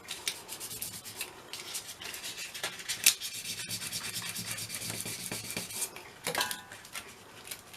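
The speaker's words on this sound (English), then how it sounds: "I think really I've neglected to rub that bit in the middle." Steady scratchy rubbing of an abrasive on an old metal tin's centre, being prepared for electro-etching, with continuous close scraping strokes and a few sharper clinks.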